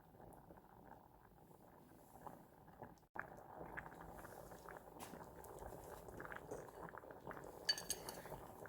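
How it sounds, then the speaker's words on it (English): A pot of water boiling steadily on the stove during Lobster Thermidor preparation, a faint continuous bubbling roil that grows fuller partway through, with a few light clinks near the end. "Okay, that's a good boil."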